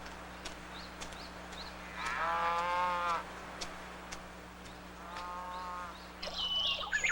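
Dairy cows on a Hokkaido farm give two drawn-out moos a few seconds apart, moderately distant and quiet over a steady low hum, with faint bird chirps around them.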